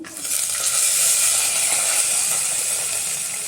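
Green chillies sizzle steadily in hot oil in a pan, a dense, bright frying hiss that swells early and holds at a close, even level with no voices.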